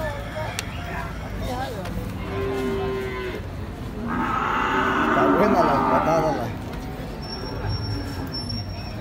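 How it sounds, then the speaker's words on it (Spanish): At a livestock market, a cow moos loudly several times while it is loaded, with people talking nearby. "Ahí estamos viendo que están cargando esa vaca."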